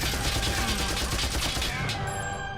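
A dense burst of rapid gunfire from the anime Death Note, loud and continuous, with a faint high ringing tone emerging near the end.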